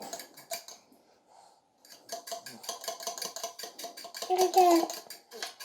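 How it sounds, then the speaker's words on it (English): Muffin batter is stirred in a bowl with a utensil, making quick, rhythmic scraping strokes in two bursts that grow louder toward the end. A brief voice murmurs in the background. "give this a little bit of a stir"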